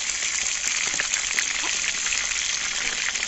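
Chicken leg pieces frying in hot oil, a steady, loud, close crackling sizzle with scattered pops throughout, heard alone.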